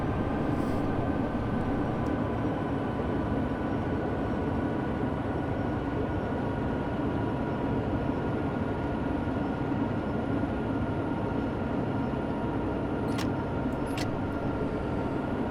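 A locomotive on the Sherman Hill route between Cheyenne and Laramie in Train Sim World 2 gives a steady, continuous low rumble and drone throughout, loud and unbroken, with a faint short high tone near the end.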